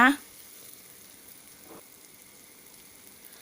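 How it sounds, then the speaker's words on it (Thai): Pounded chili and garlic hit a hot pan with a sharp clatter, then settle into a quiet, even stir-fry hiss, close by. "นำพริกกับกระเทียมที่เราตำไว้แล้วนะคะ ไปผัดให้หอมเลยนะคะ"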